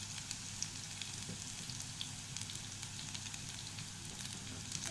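Garlic sautéing in a hot pan for a Kerala squid (koonthal) fry, a steady, soft sizzle and crackle of oil running continuously with faint scattered pops and no talking.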